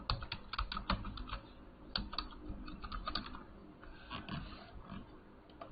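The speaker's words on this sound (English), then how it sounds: "so let's type that in." Keystrokes on a computer keyboard as a search keyword is entered, a quick irregular run of close, crisp clicks and taps with brief pauses.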